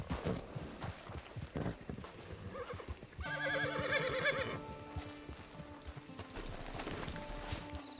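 Hooves clop in a quick rhythm, then a horse lets out a loud, drawn-out whinny before the hoofbeats carry on, in the video game Red Dead Redemption Online.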